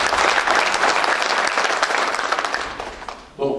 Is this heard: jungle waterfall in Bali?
no